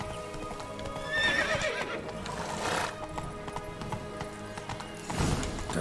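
Roach, the horse in The Witcher 3 video game, gallops with steady rhythmic hoofbeats and gives a whinny, all fairly loud over a background of game ambience.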